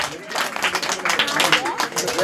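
An audience at a Teachers' Day prize-giving ceremony claps steadily for award recipients, with busy, dense clapping and a voice speaking over it.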